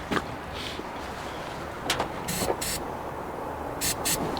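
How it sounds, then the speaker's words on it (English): Starting fluid sprayed into the intake of a 39-year-old Ford F-150 pickup that cranks but won't start, heard as a few short bursts of hissing spray against a low background hum. "Let me spray this again."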